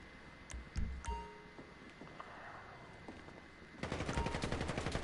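Video game gunfire in a wrestling-themed shooter match, a few sharp shots early, then a dense burst of rapid automatic fire near the end, fairly loud with no talk.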